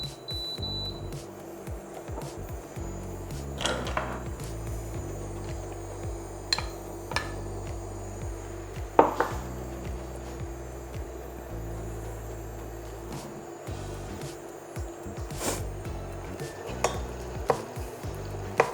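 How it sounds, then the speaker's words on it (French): Butter heating in a pan for a roux, a faint low sizzle under scattered clinks and scrapes of a utensil against cookware, with occasional sharp metallic knocks. "Et maintenant, on va faire le roux. Alors, je vais faire chauffer le beurre."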